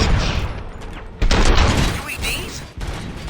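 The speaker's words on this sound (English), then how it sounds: "Gunshots? What's going on?" Gunfire in the RoboCop: Rogue City video game, loud bursts of shots cracking in quick succession with sharp attacks, mixed with a voice speaking.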